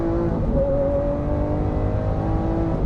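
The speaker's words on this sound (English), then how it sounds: "a stonking great V12 engine in it" The V12 engine of a 2017 Lamborghini Aventador S drones steadily at a high, sustained pitch, revving smoothly with a strong whine throughout.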